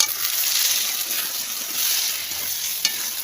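Chana dal lentils are tipped into a hot oiled pan and stirred, making a steady close sizzle and frying hiss with soft scraping, then a small clack near the end.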